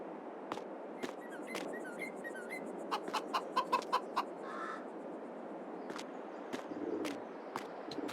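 Chickens cluck in the Farming Simulator 22 video game on the Deutschland map, scattered clucks and short calls, a few coming in a quick run, over a steady low farm ambience.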